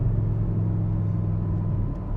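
Low, steady engine rumble of an Audi R8 V10 while cruising, a smooth droning hum from inside the car with no talk over it.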